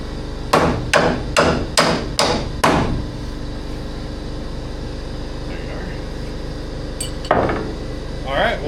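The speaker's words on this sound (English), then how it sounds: "Might need that hammer for that one." A hammer strikes boards being knocked out of a horse stall under construction, six loud, evenly spaced blows close by, followed by quiet, then one more single knock and some faint background noise.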